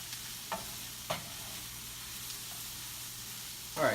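Onions fry gently in a pan with Italian seasoning, giving a soft, steady sizzle with a few faint clicks of stirring, quiet and close with no talking.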